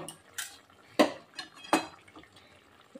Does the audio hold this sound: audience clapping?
no